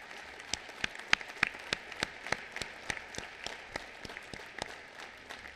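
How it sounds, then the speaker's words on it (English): Sparse, individually distinct hand claps ring out at a school Veterans Day assembly, a modest scattering of audience members applauding veterans and cadets, each clap sharp and separate rather than blended into a roar. "Please give them a nice round of applause,"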